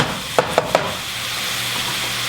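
Chopped celery and green pepper tumble into a hot pan of smoky jambalaya base, giving three quick knocks over a steady sizzle.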